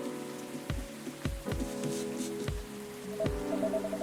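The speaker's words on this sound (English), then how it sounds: "A place to be safe while the rain falls outside." Rain falling outside in the video game Coffee Talk, a soft steady patter under a gentle music bed with low periodic thumps, fairly quiet and continuous, with no talk.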